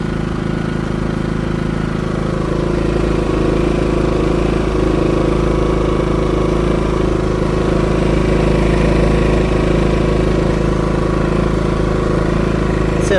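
A Dnipro-M GX-30iG inverter generator, which runs on gas or petrol, runs steadily and loudly close by on its first start, with an even droning engine note and no break over the whole stretch.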